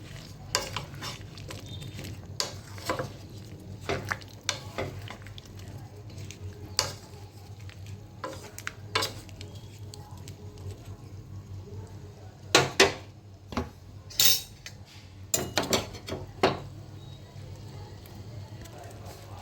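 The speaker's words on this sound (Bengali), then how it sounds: "এবার আমি এই সবজিগুলো দিয়ে দিলাম বাদ বাকি ক্যাপসিকাম আর কুমড়ো" Capsicum and pumpkin pieces go into a cooking pan and get stirred, with scattered clinks and scrapes of a utensil over a low simmering background, and a cluster of sharper knocks later on.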